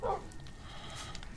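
A tamed dog in the Minecraft video game gives one brief, high whimpering yelp at the very start as it is killed, followed by quiet game background noise.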